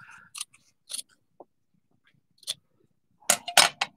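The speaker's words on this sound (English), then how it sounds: "This side, I'm just gonna trim just a smidgen down." Scissors make a few sharp, separate snips while trimming fabric for a pin cushion, close and crisp with quiet gaps between cuts.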